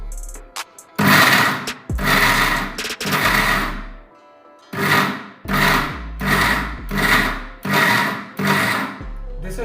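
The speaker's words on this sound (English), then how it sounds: "If I'll continuously run this mixer, it will overheat and then spoil this protein powder." Mixer grinder pulsing on and off as it grinds dry fruits into homemade protein powder, about eight loud whirring bursts separated by brief pauses, close and without talk.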